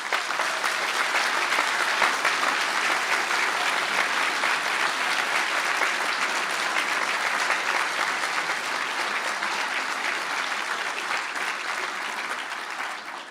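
Applause at a university conferring ceremony in Galway as biomedical engineering graduates stand, a dense, steady crowd clapping that holds strong and tapers slightly near the end.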